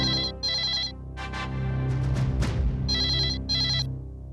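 A telephone rings in two pairs of bright, trilling bell bursts, one pair at the start and one near the end, with a louder stretch of other sound between them.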